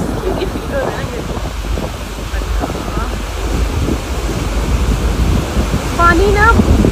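Waves churned up behind a moving boat wash and rush continuously, mixed with strong wind buffeting the microphone, loud and steady throughout with some faint chirping sounds near the end.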